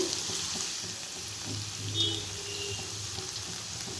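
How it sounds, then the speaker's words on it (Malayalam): Chopped vegetables and curry leaves sauté in a pan for a vegetable masala, giving a steady close sizzle with a brief swell of stirring, and no talk. "ഇത്രയും ചേർത്തിട്ട് ഒന്ന് വഴറ്റി കൊടുക്കാം അല്പം കറിവേപ്പിലയും കൂടെ ചേർത്ത് കൊടുക്കുന്നുണ്ട്"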